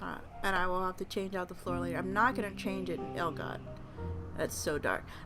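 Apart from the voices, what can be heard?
No everyday noises stand out.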